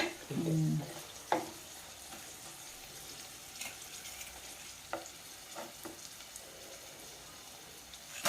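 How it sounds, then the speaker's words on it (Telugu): Dried red chillies frying with mustard seeds, cumin, urad dal, chana dal and garlic for tempering: a quiet, steady sizzle with a few sharp clinks of stirring, close by, and a short voice near the start. "ఎండుమిరపకాయలు బాగా వేగాల"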